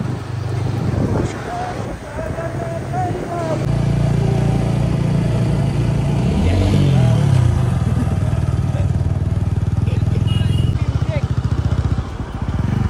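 Three motorcycles riding toward Sonde dam in a lush monsoon setting, a steady engine hum with wind rumble, heard from on the bike with people talking over it.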